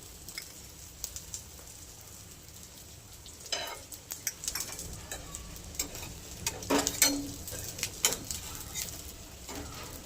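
Egg dosa fries in a little oil on a pan, a low steady sizzle broken by sharp utensil taps and scrapes that grow busier toward the end, close up and without speech.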